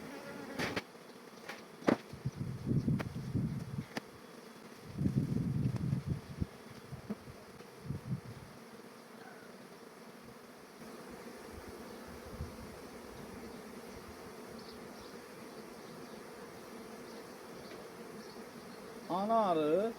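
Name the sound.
honeybees buzzing around a beehive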